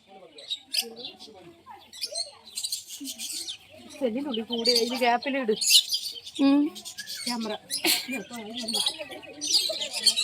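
Pheasants, including silver pheasants, chirp and squawk in bursts at a pet park, mixed with people chatting nearby; calls are close and fairly loud.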